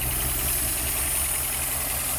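An old Ford Maverick engine, seized and unrun for 26 years, idles steadily and up close with a continuous low rumble and slight roughness. It runs alone, without talk.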